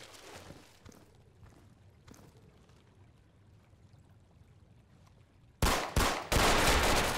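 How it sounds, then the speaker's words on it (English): Gunfire in the tactical shooter Insurgency, scattered quieter distant shots followed by a sudden loud close burst of rapid fire near the end. "somebody's firing at me!"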